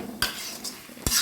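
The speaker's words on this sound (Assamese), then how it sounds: "কণ বিলাহীখিনিও লাহে লাহে সিজিছে আৰু ধুনীয়াকৈ লৰাই দি পেলাই মই মিলাই দিছোঁ" A utensil stirring vegetables and tomatoes in a pan for traditional Assamese pani lau, two quick metallic scrapes and clinks close by, with soft sizzling in the quiet between them.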